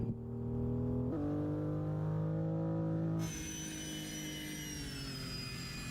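Airbus A320 jet engine in a driving video game, a steady tonal whine and roar that shifts pitch twice as the throttle changes, continuous with no talking.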